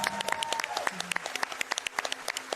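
An audience claps at a live speedrun marathon event for a blindfolded Zelda: A Link Between Worlds run, with steady dense applause and a voice speaking over it.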